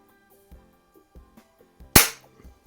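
A Hatsan Jet 2 .177 PCP air rifle fires a single sharp, loud crack, near and abrupt, with quiet handling clicks and faint knocks before and after it.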